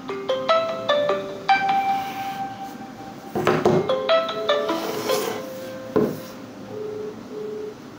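A OnePlus 9 smartphone rings with an incoming call, a bright tonal ringtone melody in repeating phrases over a hushed room, with a few soft handling rubs and knocks mixed in and no speech.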